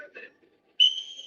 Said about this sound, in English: the police here were blowing whistles